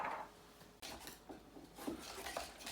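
Cheese soufflé batter mixed in a bowl, with a utensil scraping and clinking against the sides in irregular strokes, fairly close and quiet, with brief louder knocks among softer rubbing.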